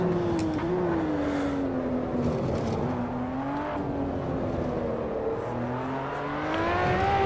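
Ferrari LaFerrari racing in Assetto Corsa, its engine note rising and falling through gears in a continuous whining roar as the car accelerates, loud and close with no talk.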